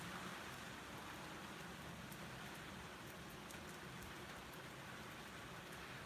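Steady rain falls outdoors as a faint, even hiss with scattered drop patters, continuous throughout and free of voices.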